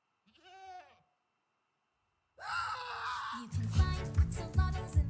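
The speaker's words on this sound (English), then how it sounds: "Oh, hey, goat." A Minecraft goat lets out a single wavering bleat against silence, then a loud burst of game sound and music follows.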